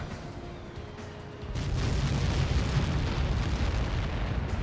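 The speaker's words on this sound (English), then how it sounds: "How many got caught in that explosion?" A large explosion in the combat flight game Ace Combat 7 erupts as a sudden loud, sustained roaring blast that swells after a quieter start and rumbles on steadily to the end.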